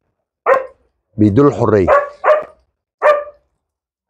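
A female dog gives a few short, loud, close barks, and a person speaks briefly between them.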